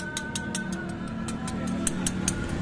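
A Honda Beat ESP scooter's noisy CVT transmission idles nearby with a steady low drone and a regular, rapid ticking rattle repeating over it.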